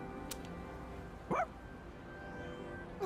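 Koro-chan, the dog in Persona 3 Reload, gives a single short bark in the middle, alone over a quiet game music bed with faint tones.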